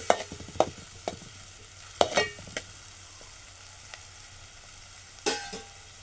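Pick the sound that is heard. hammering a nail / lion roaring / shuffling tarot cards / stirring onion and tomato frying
stirring onion and tomato frying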